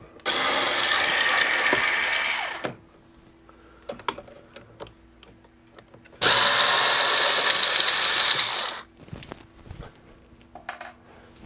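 A power screwdriver whirs in two loud bursts of about two seconds each, backing out small screws from a pinball machine stepper unit, with quiet clicks and handling noises of tools and metal parts between them.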